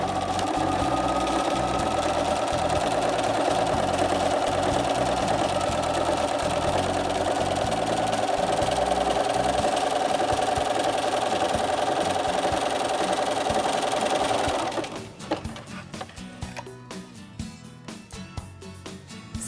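A sewing machine running a blind hem stitch runs steadily, its motor whirring and needle clattering in a fast even rhythm for about fifteen seconds before stopping, with faint handling noises afterward.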